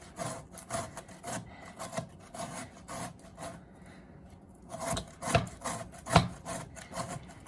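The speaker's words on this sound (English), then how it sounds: "This grater's a little tiny. But we'll go ahead and shred." Food being shredded by hand on a small, tiny grater, with rhythmic rasping strokes close up that pause briefly and then resume with a couple of sharper scrapes.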